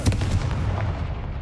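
A Confringo blasting spell goes off in the Hogwarts Legacy video game: one heavy, booming burst with a rumbling low end that fades through the short clip, with no talking.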